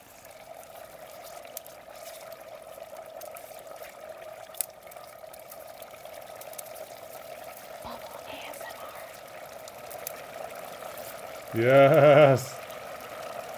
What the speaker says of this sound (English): now they can hear the bubbling too